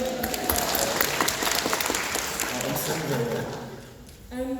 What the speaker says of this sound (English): Round of applause for John, everybody.